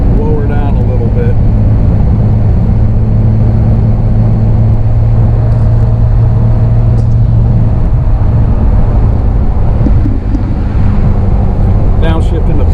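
A 1959 Austin Healey 100-6 engine drones loud and continuous at road speed with heavy wind and road rumble inside the cabin, and a voice talks over it.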